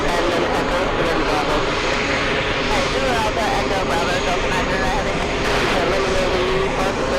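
A plane slows on the runway at JFK airport and turns off it: a loud, steady engine roar that fills the whole clip, with a low rumble beneath and people talking over it.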